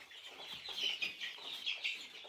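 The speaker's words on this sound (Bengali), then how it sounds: "গাইস মুরগিগুলোকে খাবার দেওয়া শেষ করলাম এই মাত্র" A flock of chickens clucks continuously while eating feed, a busy, close chorus of overlapping murmuring calls with no talking.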